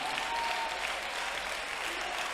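Congregation at an IPC Pentecostal prayer service applauding, a dense steady wash of many hands clapping at once, continuous and fairly loud without a break.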